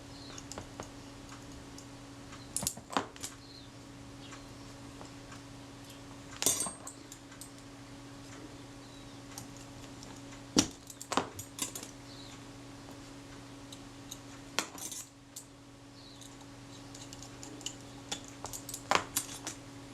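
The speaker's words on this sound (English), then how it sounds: "So I'll get these remaining screws in the trim here on the base of the camera." Small screws go into the trim on the base of a camera, with sparse, faint ticks and clicks of a screwdriver and metal parts spread over a steady low electrical hum and no talking.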